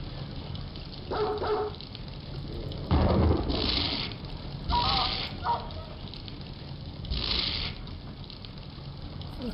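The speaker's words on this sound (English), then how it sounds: "There's another dog on that island." A dog in a Quake mod barks in several short, harsh bursts spaced a second or two apart, mixed with mechanical clanks and no speech.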